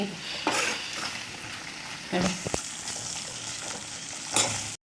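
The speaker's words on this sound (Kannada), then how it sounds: "ಮಸಾಲೆ ಒಳ್ಳೆ ರೀತಿ ಫ್ರೈ ಆಗಿದೆ" Steady crackling sizzle of something frying in hot oil, with a few stirring scrapes and clinks breaking through.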